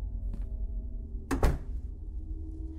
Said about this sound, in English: Heard a door slam somewhere.